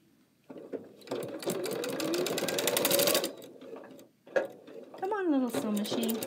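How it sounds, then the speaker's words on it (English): A sewing machine stitching quilt binding runs in a steady rapid mechanical whir for a few seconds, pauses, then starts again, with someone speaking over and between the runs. "Come on, little sewing machine."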